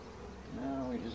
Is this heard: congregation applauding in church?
no